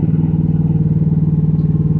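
A mini excavator's diesel engine idling with a steady, loud, throbbing rumble and rapid even pulses, close by with no other sounds.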